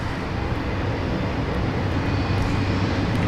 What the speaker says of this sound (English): another Fokker actually heading on out